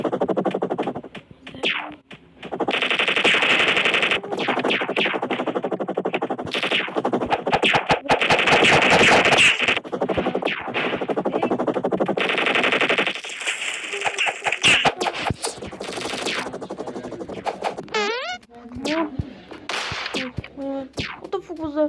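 Sustained rapid gunfire in the Chicken Gun video game, loud dense bursts of shots over roughly twenty seconds, easing into scattered shots near the end.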